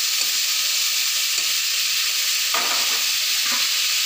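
Broccoli frying in a pan, a loud steady hissing sizzle close by with a few brief stirring scrapes.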